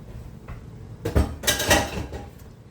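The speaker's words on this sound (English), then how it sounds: "Get rid of the pan." A metal pan is shifted aside on a kitchen counter while a quinoa salad with Swiss chard and goat cheese is assembled, giving a few close clanks and scrapes in the middle of the clip with no talk.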